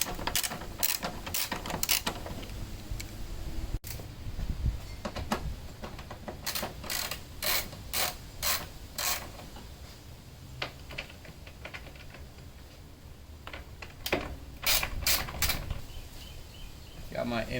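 Impact wrench zipping out 10 mm bolts from a 2018 Honda Accord bumper, several short loud rattling bursts with pauses between, close by, and someone speaking at times.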